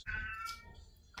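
A cat meows once in a drawn-out, fairly close call in a home kitchen where bacon-wrapped jalapeño poppers are being made, followed by faint rustling.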